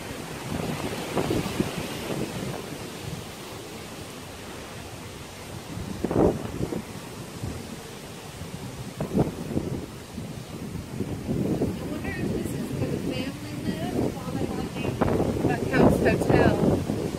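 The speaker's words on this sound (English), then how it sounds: "So we've been beaten with the wind." Strong wind buffets the microphone with a constant roar and gusty swells, with voices talking intermittently underneath.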